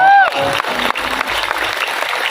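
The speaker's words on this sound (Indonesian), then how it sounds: "Tepuk sing banter" Applause from a crowd at an outdoor religious gathering, a short burst of dense clapping, moderately loud, following a brief voice at the start.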